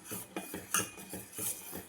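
Spoon stirring lentil payasam flavored with cardamom in a pot, giving a steady series of soft scraping clinks roughly every quarter second, close and moderately quiet with no talking.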